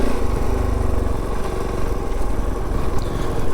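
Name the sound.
Kove 450 Rally motorcycle engine while riding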